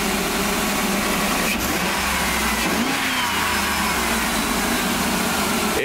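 A repaired van engine runs steadily up close, a continuous, even mid-pitched hum with a slight rise in revs partway through and no talking over it.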